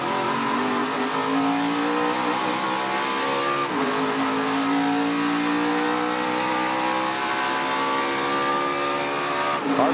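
Onboard engine of Kevin Harvick's NASCAR Xfinity Series race car launching with tires spinning, a loud continuous rising rev with harmonic whine climbing, dipping at a shift near four seconds and climbing again, close and steady throughout.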